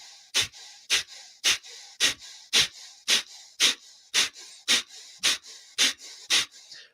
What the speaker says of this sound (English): Sharp exhale, passive and natural inhale.